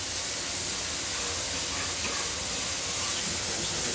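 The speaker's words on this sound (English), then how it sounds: "So we're going to flip the steak over now." Rump steak, just flipped, sizzles in a hot pan with a loud, unbroken hiss that holds steady throughout.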